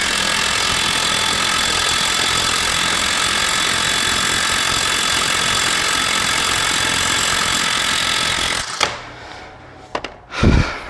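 A Shidoku SH G2 cordless impact wrench with a 3/4-inch square drive runs loud and steady for about eight seconds, then stops, followed by a few short clunks and knocks nearby, with no speech.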